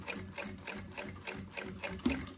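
A sewing machine runs a line of ivory-thread stitches, set to stitch length 4.5, along the edge of a Montana synthetic leather women's wallet. Its rhythmic motor chatter pulses steadily and close, with no voices.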